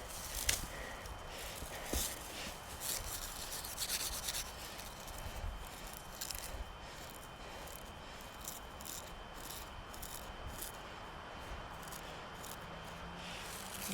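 Two wooden sticks rubbed together to start a fire, with wood shavings nearby, give off a steady rasping, scraping friction. It runs continuously and quietly, with a few louder scrapes near the start.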